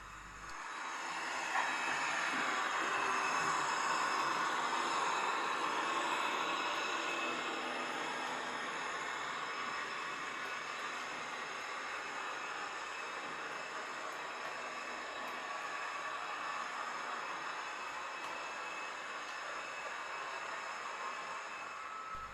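A model railway train, the IC 515 Hannenkamm, rolls past with a steady, broad rumbling hiss that swells early and then holds, with no voices.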